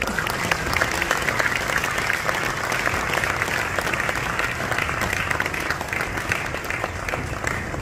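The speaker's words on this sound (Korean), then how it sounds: "큰 박수로 맞이하겠습니다" Loud, continuous applause from a church forum crowd welcoming guests on stage, dense clapping that holds steady for around eight seconds without a break.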